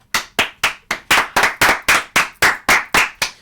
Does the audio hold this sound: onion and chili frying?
no